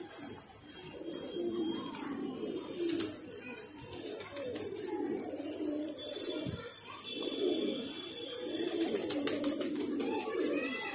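Pigeons coo steadily in low, throaty murmurs, several birds overlapping close by, with faint higher chirps in the background.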